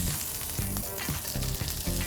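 Gambas (prawns) sizzle in a frying pan, a steady close crackle with brief bursts of spitting and light clatter, no voices.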